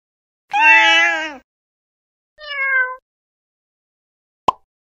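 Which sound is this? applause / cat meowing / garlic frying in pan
cat meowing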